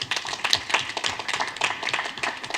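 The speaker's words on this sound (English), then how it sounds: "And clap for them" Clapping from an audience at a school board meeting, a modest, uneven patter of hands lasting a couple of seconds, fairly close and not very loud.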